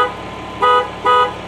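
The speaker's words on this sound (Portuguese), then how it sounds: "Vamos ver a buzina do Silverado." Two short honks from a Chevrolet Silverado's horn, loud and close, each blast lasting about a fifth of a second with a brief gap between them.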